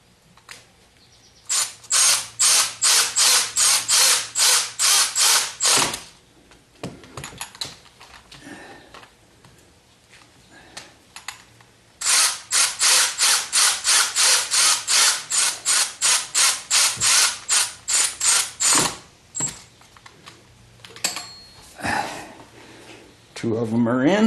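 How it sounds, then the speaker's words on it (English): Ratchet turning bolts on a 2015 Jeep Wrangler JK power steering pump, two long runs of rapid, loud, evenly spaced clicks with a quieter irregular stretch between, close up. "I'm just going to gently use the ratchet"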